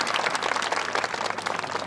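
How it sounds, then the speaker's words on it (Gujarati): Applause from the audience at a Gujarati drama performance by a village theatre troupe, a dense steady patter of many hands clapping throughout, moderately loud with no talk over it. "એકવાર આ ભાઈ બહેન માટે જોરદાર તાળીયા પાડી દો ભાઈ"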